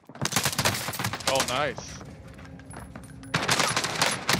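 Rapid automatic gunfire in the battle royale game Modern Warfare Warzone, loud hip-fired bursts at the start and again near the end, with players talking over the action.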